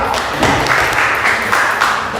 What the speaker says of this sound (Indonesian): Kita beri tepuk tangan untuk kelompok A.